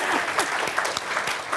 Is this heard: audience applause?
yes